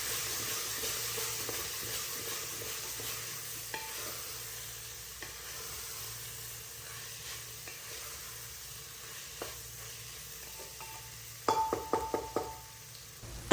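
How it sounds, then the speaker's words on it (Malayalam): Tomatoes and salt sautéing with onions in a pan for an easy cooker biryani: a steady quiet sizzle runs throughout, with occasional soft knocks and a cluster of clinking stirring sounds near the end. "ആ ഒരു സമയത്ത് തക്കാളി കൂടി ഇട്ട് കൊടുത്തിട്ട് കുറച്ച് ഉപ്പും കൂടി ഇട്ടിട്ട് ഒന്ന് വഴറ്റി കൊടുക്കുക"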